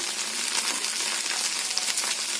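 Okra frying in a pan over a medium flame, a steady, even hiss of sizzling oil holding constant throughout with no voices.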